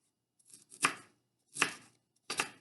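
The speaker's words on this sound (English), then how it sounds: "Chop the ginger." Ginger is chopped with a paring knife in three crisp, separate strikes on a cutting board, each a sharp close knock with a short rasp, spaced evenly with quiet gaps between.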